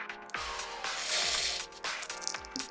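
Lubricant spray squirted into the gaps of a Rubik's cube, a close hiss that swells and fades in a few bursts, with small clicks of the plastic cube turning in between.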